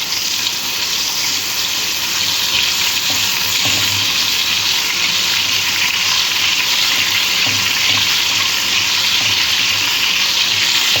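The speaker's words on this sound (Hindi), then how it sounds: "अब इसमें लहसुन अदरक का पेस्ट डालते हैं।" Garlic ginger paste fries in a pan with a loud, steady hiss and sizzle throughout, close up and with no voices.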